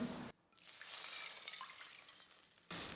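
Water being poured into a kadai while making semiya kesari: a steady soft trickle and splash of about two seconds, fairly faint, set between louder cooking noise at either end.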